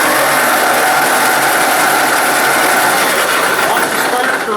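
A Ford 2N tractor engine cranks over with a continuous, loud mechanical whirring and rattling close by, without catching.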